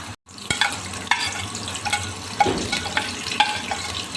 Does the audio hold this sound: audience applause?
no